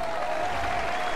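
Crowd applause and cheering at the start ramp of a time trial in the cycling video game Tour de France 2015, a steady dense clapping wash at moderate level throughout, with a faint sustained tone running underneath.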